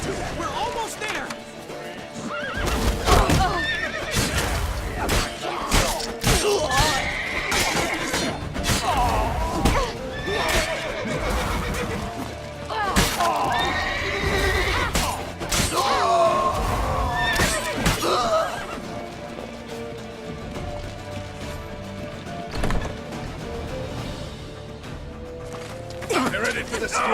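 Repeated horse whinnies and snorts with galloping hooves during a Witcher 3 escape on horseback, loud bursts recurring over about twenty seconds, with shouting voices and game score mixed in before it settles.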